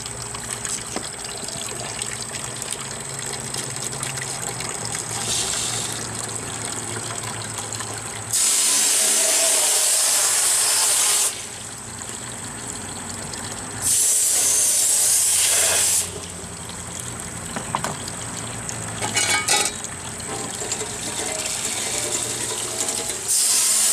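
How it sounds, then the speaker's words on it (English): Tap water runs into a cleanout sink, washing rock tumbler grit down the drain toward a recovery system, with steady trickling broken by two loud full-force bursts of spray. "I got to wash the rest of this stuff down the drain to"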